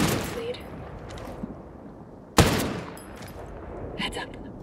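A few gunshots in a tactical video game, one loud sharp crack in the middle standing out over quieter shots and faint background ambience.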